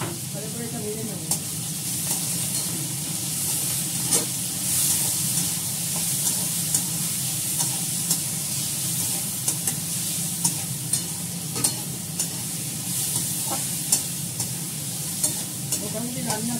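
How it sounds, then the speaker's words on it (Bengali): Cabbage fries in a pan with a steady, close hiss of sizzling oil, broken by repeated scraping and clinking as it is stirred, with no talking. "বাঁধাকপিটা দিয়ে দিলাম, দিয়ে দেবো। ভালো করে এটা ভেজে নেবো।"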